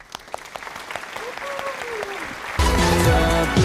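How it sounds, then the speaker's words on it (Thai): Studio audience applause welcoming a guest painter on a Thai talk show, starting thin and scattered under some voice and tonal sounds, then swelling abruptly into loud clapping with music. "ขอเสียงปรบมือต้อนรับให้กับไกด์ของเราเลยค่ะ"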